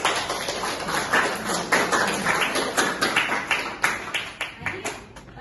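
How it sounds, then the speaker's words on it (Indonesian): Students in a university classroom clap together in a short, uneven burst of applause, close and lively, with some voices mixed in. "tepuk tangan dulu yang bertanya"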